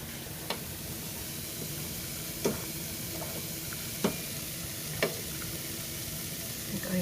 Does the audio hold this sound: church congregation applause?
no